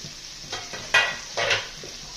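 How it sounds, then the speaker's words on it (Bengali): Hilsa fish frying with spices in a pan, a loud close sizzle swelling in two or three bursts as the pieces are stirred and turned, with faint scraping underneath. "এই মশলার সাথে এই মাছগুলোকে আমি একটু কষিয়ে নিব"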